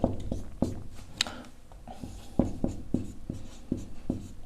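Pen or pencil writing out the answer to a maths problem on paper, a close series of soft scratchy strokes and taps in an irregular rhythm, quiet with no talking.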